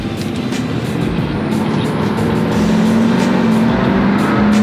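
Upgraded bearing turbo on a Duramax-powered Hummer H1 whining as it spools, a steady rising tone over loud continuous diesel engine rumble, close and sustained with no talk.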